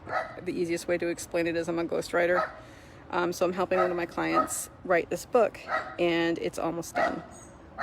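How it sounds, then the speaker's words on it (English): A neighbouring dog barks in short bursts behind a person talking steadily at close range, the yaps partly masked by the voice. "that's the dog next door barking at me"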